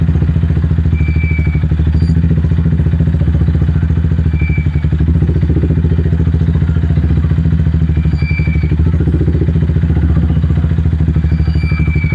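A Royal Enfield-style motorcycle engine idles and chugs in a steady, loud rhythmic thump close by as the clutch is let off to creep forward, with faint high chirps over the engine.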